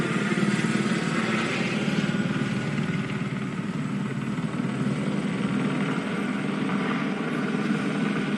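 A helicopter hovering overhead, a loud continuous rotor drone with steady thumping that holds at the same level from start to finish, with no voices.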